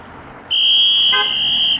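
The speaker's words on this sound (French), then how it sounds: "Les gens ils klaxonnent." A single car horn blares with a sustained, bright honk lasting over a second, up close and loud.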